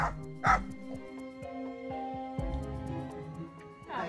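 A puppy whimpers and yips in short, high cries, close by, with a loud yelp near the start and more whines after.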